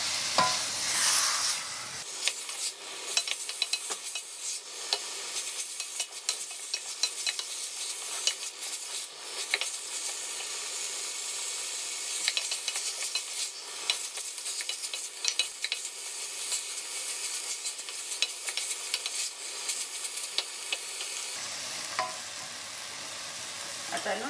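Salted pork sautéing in a pan for Goan pork stew, with a steady loud sizzle and frying hiss across the whole stretch, broken by occasional stirring scrapes and no talk.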